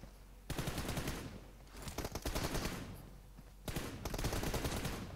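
Automatic gunfire in the mobile battle royale PUBG Mobile, two long loud sustained bursts of rapid shots separated by a short gap, close and dense.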